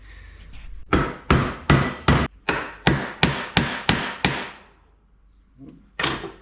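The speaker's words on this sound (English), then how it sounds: "I might have to use the old hammer and vise trick" A hammer strikes a steel bar held in a vise about ten times in a steady rhythm, each blow ringing sharply and close, then a pause and one more hit.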